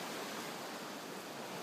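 Steady, faint broadband surf wash rolls on Cinnamon Bay beach, St. John, in the U.S. Virgin Islands, as a continuous even hiss with no distinct wave breaks and no voices.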